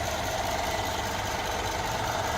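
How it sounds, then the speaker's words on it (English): A 2013 Mercedes GL550 4Matic V8 engine idles smoothly with a steady, even hum at constant level and no talking. "Again, idling super smooth."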